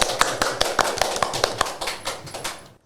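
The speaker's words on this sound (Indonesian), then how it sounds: "Boleh tepuk tangannya." A short burst of clapping from a small audience, with sharp, evenly spaced claps in a quick steady rhythm that fade out after about three seconds.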